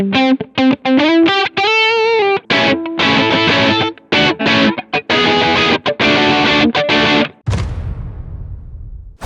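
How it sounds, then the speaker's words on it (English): An electric guitar with single-coil pickups played through heavy distortion, loud choppy chords and riffs with gaps, ending on a ringing strummed chord that decays into hiss and buzz. "Single coils inherently have some background buzz, and that's amplified when you're playing with any gain or distortion."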